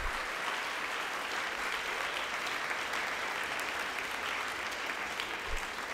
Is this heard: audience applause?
yes